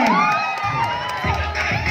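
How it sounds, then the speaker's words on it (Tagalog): A crowd at a fan anniversary event cheers and shouts loudly, with excited voices and whoops rising together in a continuous roar; applause is not clearly distinct. "Palakpakan po na may kasamang sigawan para sa team Aljon!"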